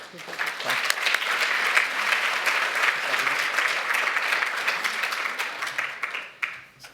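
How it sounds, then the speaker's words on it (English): Sustained audience applause fills a conference hall at an Indigenous community gathering, steady dense clapping from many people that holds for several seconds, then thins and tapers at the end. "let's give yourselves one more round of applause as well"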